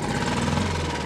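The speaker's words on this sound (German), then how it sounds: "Jetzt muss ich mal ganz kurz meinen Motor wieder anmachen" A small boat outboard motor, under 15 hp, runs steadily and close by with a dense, rough mechanical drone throughout and no clear start-up surge.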